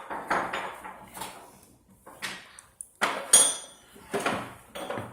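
Fluffy slime being mixed by hand in a bowl: irregular wet slaps, squelches and clatters arrive in uneven bursts, loud and close, with short quiet gaps between strokes.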